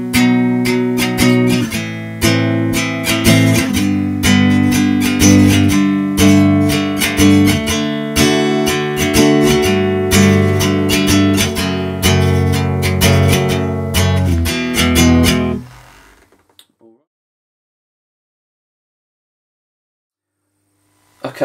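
Acoustic guitar playing the alternate verse of a song, a steady strummed chord pattern, close and full for about fifteen seconds before ringing out into silence.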